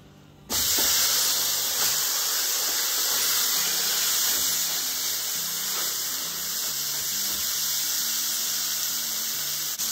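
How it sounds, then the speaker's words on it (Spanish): Pork loin in adobo hits a very hot comal and searing begins, a sudden loud sizzling hiss that holds steady and close for several seconds with no voices. "Ya voy a poner el lomo a sellar."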